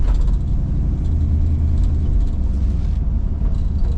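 Black 1967 Chevelle Malibu on a test drive, heard from inside as a steady, loud low engine and road rumble that stays constant throughout.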